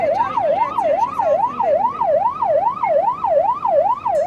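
A loud, close ambulance siren during an emergency call-out wails in a steady up-and-down sweep that repeats about every half second, with no voices.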